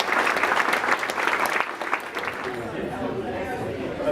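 Audience applause at a scholar-athlete awards ceremony, loud steady clapping from a seated crowd that thins and fades toward the end, with faint murmured chatter underneath.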